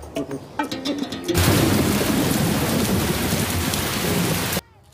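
Heavy rain pours down loudly and steadily, a dense hiss that cuts off abruptly near the end after a few scattered drips at the start.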